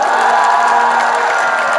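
A large crowd at a public gathering in Nabinagar breaks into loud, dense applause and cheering, a steady roar of clapping that fills the whole moment.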